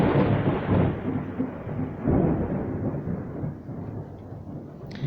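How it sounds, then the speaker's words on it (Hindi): Loud thunder rolls from storm clouds during bad weather, a long deep rumble that swells twice and then slowly fades, heard alone without speech. "यहाँ पे मौसम काफ़ी ख़राब है, बादल बहुत ज़ोर से गरज रहा है, उसी का साउंड था।"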